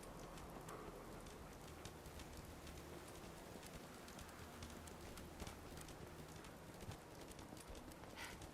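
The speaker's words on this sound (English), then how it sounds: "Just thinking how wonderful it'd be to get out of this infernal rain." Constant patter of rain in the video game Fallout 4, a faint, even hiss of drops with scattered tiny ticks across the whole stretch and no voices.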